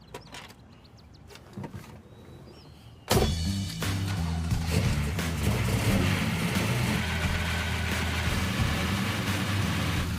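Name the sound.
classic car engine starting and running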